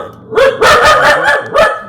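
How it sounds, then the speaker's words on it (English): A dog barks several times in a quick, loud burst close by, the barks running together with a whiny edge. "no barking"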